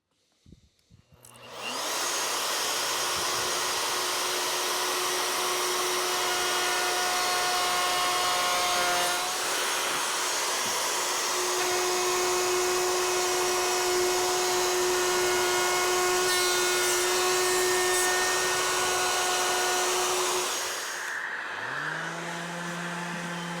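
Power sander working 40 grit on the sides of a wooden fold-down bench vise part, a steady loud whine and roar running continuously for about twenty seconds before stopping, then a motor spinning down.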